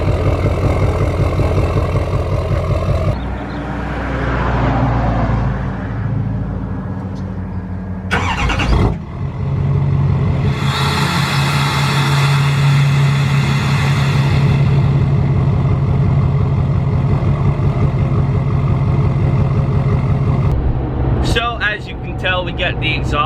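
A Duramax diesel pickup, a recent LML model with straight-piped exhaust, rumbles loudly and steadily throughout while driving, its deep low drone continuous, with someone talking over it.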